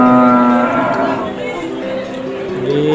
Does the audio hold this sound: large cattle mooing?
yes